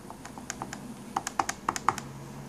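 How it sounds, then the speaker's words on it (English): A phone number is tapped out on a computer keyboard while setting up call forwarding on an Avaya IP Office system: quiet, close, irregular key clicks that grow slightly faster and firmer toward the end. "So you just begin typing in the number."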